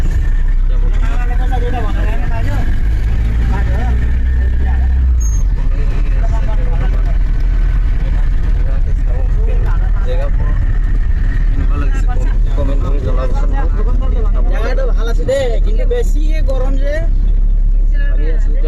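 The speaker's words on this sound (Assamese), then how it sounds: "আমাৰ দাদাজন এফালে গাড়ী চলাই আছে" A car's engine hums low and steady while it drives along a village road, a constant close rumble with people chatting inside over it.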